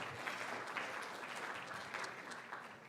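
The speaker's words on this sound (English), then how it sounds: "let's give ourselves a round of applause for that" Applause rises from a banquet crowd at a club sports awards night, a faint, distant wash of steady clapping that continues evenly throughout.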